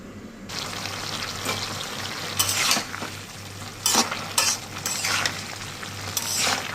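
Foli and kholshe fish being sautéed with flat beans and potatoes in a pan: a low steady sizzle broken by several sharp scraping strokes of a spoon stirring against the metal.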